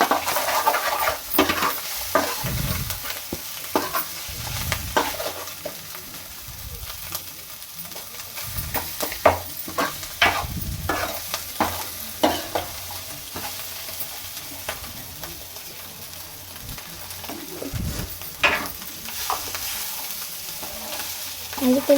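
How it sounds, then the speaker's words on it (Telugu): Ginger tamarind curry is stirred in a pan, a spoon scraping and clinking against the metal at irregular intervals over a soft, continuous sizzle, close by with no talking. "అడగట్టకుండా బాగా కలుపుకోవాలి."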